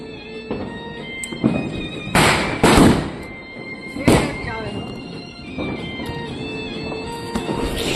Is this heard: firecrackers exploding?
yes